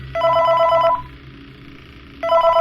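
An in-game telephone in Five Nights at Freddy's 3 rings loudly with a bright electronic bell, one ring of about a second, a pause, then a second ring starting, over a low background hum.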